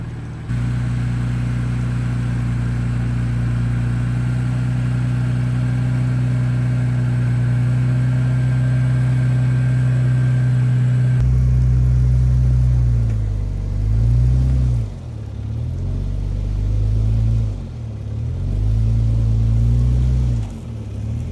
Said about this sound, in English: I'm gonna crank it hard to the driver's side and see if I can drive out of it without falling back in that hole.